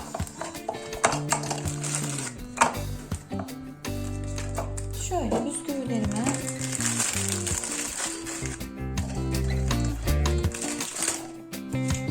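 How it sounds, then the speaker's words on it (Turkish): Biscuits are ground in a food processor, a loud grinding, rattling whir that runs in bursts with short pauses between them. Someone speaks over parts of it. "Öncelikle bisküvilerimi rondodan geçireceğim."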